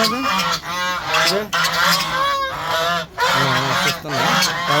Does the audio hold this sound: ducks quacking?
yes